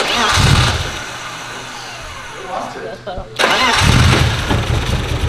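A turbocharged BMW E36 engine cranks and fires after sitting unused, rising into a loud, rough near-field roar that drops away briefly before catching again, with voices talking over it.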